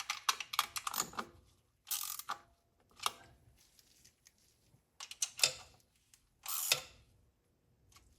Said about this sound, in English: take that 7/16 socket and just give it a little bit of a turn on each of these